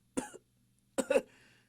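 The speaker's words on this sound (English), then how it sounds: "Another pained cough broke up her words." A woman coughs twice, close and strained: a short cough, a pause, then a harsher, more drawn-out cough that trails off.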